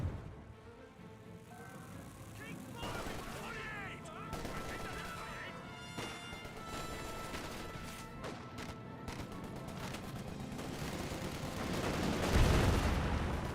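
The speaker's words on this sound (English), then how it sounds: "MG42 suppressing the officer" MG42 machine gun fire in Company of Heroes 2 sounds amid a busy battlefield, with rattling bursts, sharp shots and crashes layered over a constant din and a heavy swell near the end.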